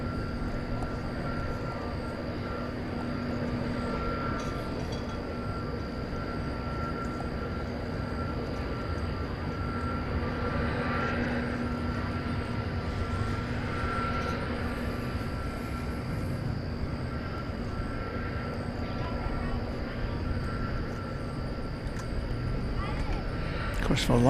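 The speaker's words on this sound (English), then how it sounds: "Coming into our view is Volaris Flight 801 to Mexico City. It's an Airbus A320" A Volaris Airbus A320neo at DFW airport hums in a steady engine drone with a faint whine, and a voice talks over it throughout.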